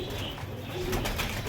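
Low, rolling coos from pedigree pigeons sound briefly against a steady background hum.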